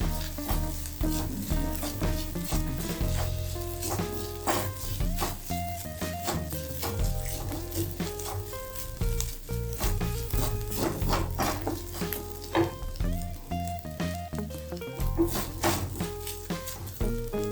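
Ground paste for banana flower kootu sautéing in a pan, a continuous loud sizzle and crackle with frequent clinks of a spoon against metal, busy and close up.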